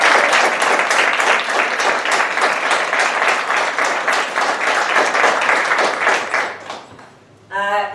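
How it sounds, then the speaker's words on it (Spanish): Sustained audience applause at a talk on human enhancement, dense and steady clapping for about seven seconds before fading out, with a brief voice returning at the end. "Otro aplauso para la..."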